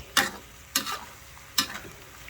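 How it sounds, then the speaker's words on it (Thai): Pea eggplants tipped into hot oil in a wok while making beef panang, giving three sharp sizzling bursts about a second apart, each fading quickly, close by with no talk. "ใส่มะเขือพวงลงไปได้เลย"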